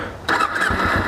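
A stock 2008 Kawasaki Ninja 250 starts up: a short starter whir, then the engine catches into a loud, close, steady mid-pitched idle, with no talk.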